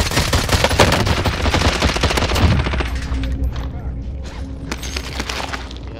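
Rapid automatic gunfire from the Warzone video game rattles in dense bursts for a few seconds, then thins into scattered shots and mechanical clatter at moderate loudness, with no talking.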